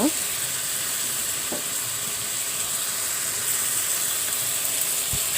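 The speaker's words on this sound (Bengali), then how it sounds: "আমি শুটকি একটু কষিয়ে নেব" Dried fish (shutki) is sautéed in a pan, with a continuous close frying sizzle and hiss and occasional soft stirring knocks throughout.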